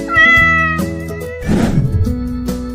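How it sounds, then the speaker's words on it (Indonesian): A soft, high meow rises over a gentle musical background, one drawn-out plaintive cry from a small cat, close and clear. "mereka mendengar suara miau lembut"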